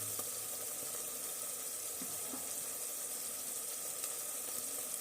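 Onion and garlic frying in a pan for egg biryani, a faint, steady sizzle that holds evenly throughout with a couple of soft stirring taps and no voices.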